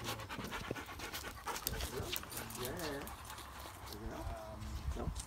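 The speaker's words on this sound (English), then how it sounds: "this is Lacey, his dog" A dog pants steadily and rapidly close by at an outdoor yard gathering, with rustling, scuffling and faint background voices throughout.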